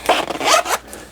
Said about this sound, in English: Zipper never fails. Probably YKK.